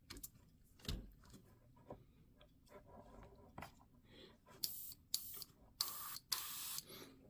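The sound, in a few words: Mobius 0.3 premium airbrush spraying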